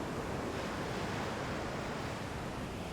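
Ocean waves roll onto a natural beach at Tangalle, Sri Lanka, as a continuous, dense wash of surf with wind noise and no distinct individual breaks.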